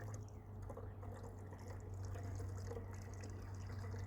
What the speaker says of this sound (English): stick your funnel in, and then slowly pour your sugar water